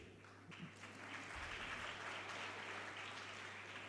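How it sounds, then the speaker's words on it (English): Applause from an audience at an inauguration ceremony for the multimedia department, a steady wash of clapping that is fairly faint and distant and builds slightly after the first half second. "Give a huge round of applause to our multimedia department"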